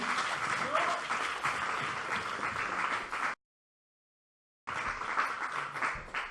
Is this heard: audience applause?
yes